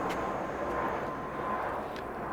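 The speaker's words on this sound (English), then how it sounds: "your plane's flying over." An airplane flying overhead outdoors, a steady broad roar that holds evenly throughout at fairly close range, alone without talk.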